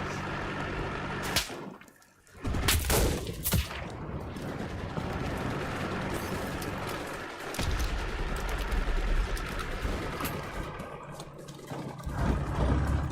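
Gunfire in a video game, heard as rapid, loud bursts of shots layered over a dense, continuous wash of battle noise, with a brief lull near the start before the firing resumes.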